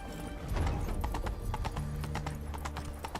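The horse Roach gallops in The Witcher 3, its hooves beating in a fast, steady, continuous clip-clop rhythm close by, with a low rumble of movement underneath.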